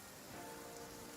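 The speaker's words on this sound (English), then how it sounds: "I love listening to the rain from the courtyard." Steady rain patters on surfaces in a courtyard in the video game Genshin Impact, a dense, even hiss of drops that holds throughout with no voices.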